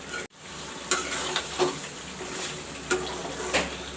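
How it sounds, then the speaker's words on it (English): Chicken and masala sizzle steadily in a pan for a homemade chicken curry, with a constant frying hiss and several soft stirring scrapes and clicks. "see the chicken and the masalas are frying over here"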